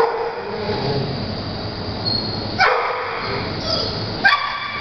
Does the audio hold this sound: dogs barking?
yes